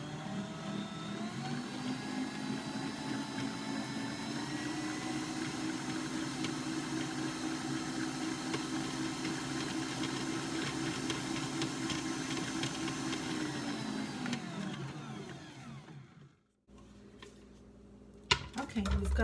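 An electric mixer creaming butter and 1.5 cups of sugar for pumpkin chocolate chip cookie dough, a steady droning whir for about fifteen seconds before it winds down and stops, followed by some handling clatter.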